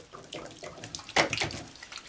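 Water running from a tap in a garage while hands are washed, a steady splashing flow that swells and surges partway through, close by, with no talking.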